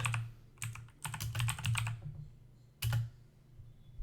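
Typing on a computer keyboard, close and clear, with quick bursts of clicking keystrokes separated by short pauses and a final lone cluster of taps.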